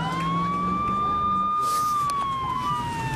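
A police car siren wails on a New Orleans street, a loud rising and falling electronic tone that sweeps steadily over road noise, with faint voices underneath.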